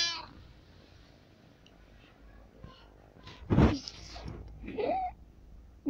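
A cat gives a couple of short, fairly close meows, loud against quiet room background, with some brief human sounds around them.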